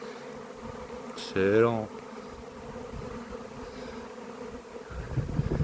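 A honeybee swarm arriving at garden hives hums as a faint steady buzz, with one insect passing close and loud for a moment; someone speaks briefly.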